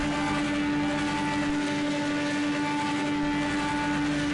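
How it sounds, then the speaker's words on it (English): Race car engine in Project Cars 2 at Indianapolis during Indy 500 time trials, a steady loud droning hum with strong tonal whine held throughout, briefly dipping in the low end mid-clip. "we have a car revving the engine, maybe trying to burn some fuel"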